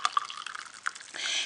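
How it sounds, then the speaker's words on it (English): Hot tea water poured out of a metal food container, a brief close stream of splashing and drips that swells toward the end. "now I'm just gonna pour it out in here."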